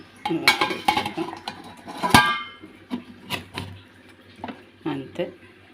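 Small steel idli plates clatter and clink as they are stacked into an idli cooker, a series of close metallic knocks with one louder clang, while someone talks over them.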